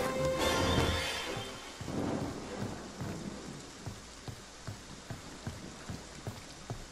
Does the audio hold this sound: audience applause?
no